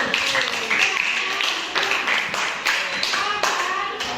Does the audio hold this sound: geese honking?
no